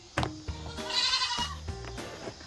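A goat on a farm gives a single wavering, nasal bleat close by, framed by a few soft knocks and thumps before and after, with no talking.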